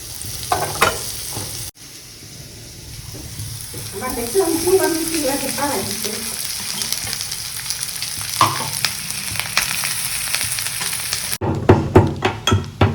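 Rice frying and being stirred in a hot pan at home, a steady close sizzle with scraping stir strokes and a few clanks of the spatula against the pan.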